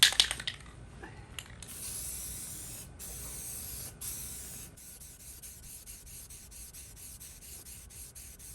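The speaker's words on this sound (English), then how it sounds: "I'm going to use the Rust Reformer primer." Rust Reformer primer sprayed from an aerosol can onto a rusty Atlas industrial tool cart, a steady close hiss in several bursts with short pauses, louder at first and then softer and continuous.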